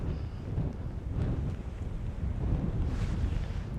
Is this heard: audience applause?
no